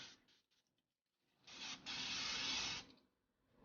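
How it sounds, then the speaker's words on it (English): A close hissing burst of cooking spray inside a slow cooker comes in a few quick short puffs, then one longer steady spray lasting over a second before stopping. "First thing, we need to spray the inside of it"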